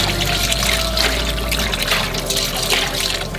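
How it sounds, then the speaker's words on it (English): Bones being washed under running water at a cafe kitchen sink, a steady loud rush and splash of tap water with shifting gurgles as the bones are rinsed, continuous and close. "You just wash it until the water runs clean."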